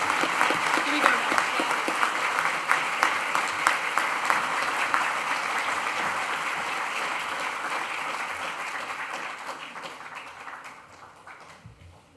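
Graduation audience applauding in a dense, sustained round of clapping that slowly fades away, with voices mixed in.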